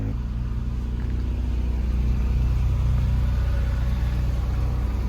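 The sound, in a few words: car being driven, GSR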